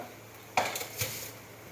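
A metal lid is set onto a cooking pot holding a bitter gourd and rohu fish curry: a clanking clink, then a second lighter metallic tap, against a quiet kitchen background.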